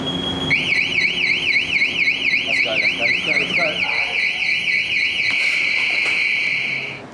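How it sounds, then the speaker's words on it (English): A building alarm goes off on a rooftop in Asia, a loud, steady warbling electronic siren that keeps cycling for about five seconds before fading, with a brief voice over it. "dealing with the alarms is part of your daily routine in the end"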